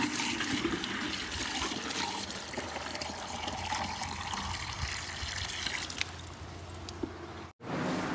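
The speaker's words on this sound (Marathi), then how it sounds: "मी आणि प्रथम इकडे पाणी भरतो आहे" Water being filled at a cold village water source in Kokan, Ratnagiri, a steady close rush and trickle of pouring water running throughout, with no talk.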